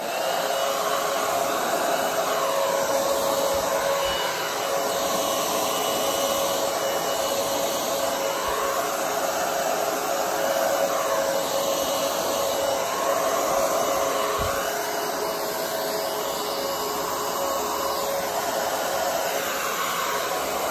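Continuous whirring blast of air, like a hair dryer, blown across a fresh acrylic Dutch pour painting with flow acrylic white, steady and loud close up for the whole stretch with no talking.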